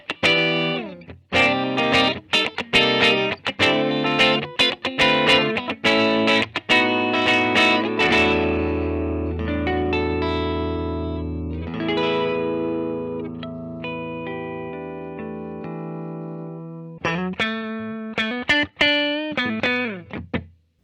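A 2021 Oaklyn 626 Purple Reign electric guitar on its middle pickup position, blending both pickups through heavy distortion: loud, rhythmic chord strikes give way to long, ringing sustained notes, then another burst of punchy strummed chords.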